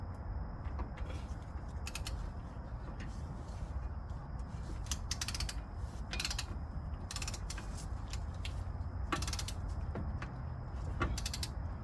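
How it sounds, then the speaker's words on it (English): A torque wrench tightens a bolt while upper control arms are fitted to a vehicle, giving repeated close ratcheting clicks and creaks in short bursts over a low background rumble. "I'm gonna get it tight, and then I'm gonna put the torque wrench on it."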